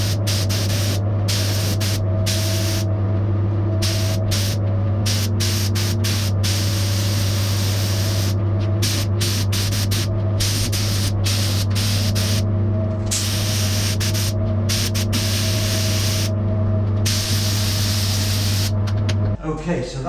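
Spray gun applying colourant to the leather seats of a Jensen car in a workshop, heard as continuous hissing spray in repeated bursts and pauses over a steady compressor hum, close and loud throughout.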